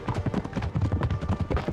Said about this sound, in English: That's a lot of horse gallops.